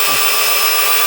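A power drill bores out a pocket in hard hickory for timber frame joinery, giving a loud, continuous high-pitched whine and grind throughout, close by and unbroken.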